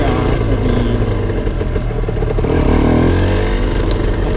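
A motorcycle engine roars loudly and continuously, its pitch climbing as it revs up and accelerates.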